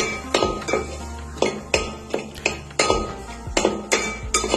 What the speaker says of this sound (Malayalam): രണ്ട് തക്കാളി അങ്ങോട്ട് മുറിച്ചങ്ങോട്ട് അങ്ങോട്ട് ഇടുക പിന്നെ മഞ്ഞൾപ്പൊടി മുളക് പൊടി അതിനുശേഷം അടിയിൽ പിടിക്കാതിരിക്കാൻ വീണ്ടും ഇളക്കുക